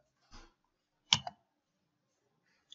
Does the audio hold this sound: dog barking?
no